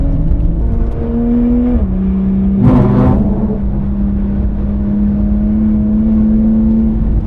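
A Toyota Supra Mark V engine runs at the Nürburgring with a loud, steady drone. Its pitch drops once partway through, then a brief rougher burst comes before the hum settles back to an even tone.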